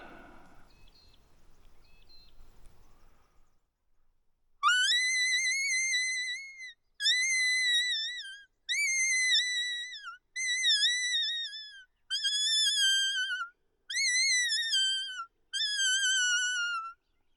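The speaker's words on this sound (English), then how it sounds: "This is the Go Thermal Fox Whistle call thing. Reed type unit." A reedy, wavering whistle call from a Go Thermal reed-type fox whistle sounds seven times in regular bursts with short pauses between, loud and close, after a few seconds of near silence.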